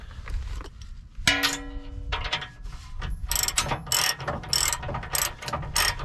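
A ratchet tightens a receiver hitch bolt on a 2021 Ford Bronco, giving loud, close bursts of rapid metallic clicking in repeated strokes, with a clank near the start and no talk.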